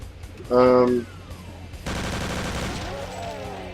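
Submachine gun fire in the shooter game Brutal Doom, a loud sustained burst of rapid automatic shots after a short tonal sound, heard close and alone.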